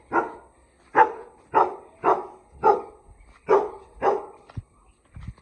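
Dogs barking in a steady, rhythmic run of about eight loud, close barks, evenly spaced, followed by a couple of short softer sounds.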